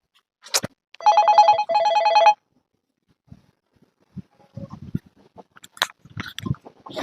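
An electronic phone ring sounds twice in quick succession, clear and close, followed by quieter handling noises and faint movement.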